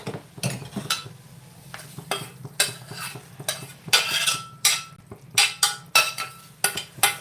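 Hot tadka poured into Punjabi kadhi in a pan: close, repeated bursts of hissing sizzle interleaved with sharp clinks of a metal utensil against the pot.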